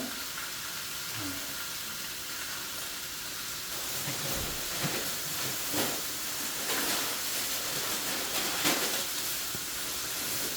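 Sauteed onions sizzle and hiss steadily in a hot pan, a dense frying noise that swells louder partway through with a few sharper crackles.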